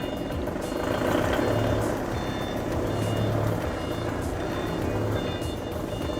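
A HELI 3-ton two-stage-mast forklift sounds its reversing alarm while driving out, repeated loud electronic beeps in a steady rhythm over a low engine rumble, close by and with no talking.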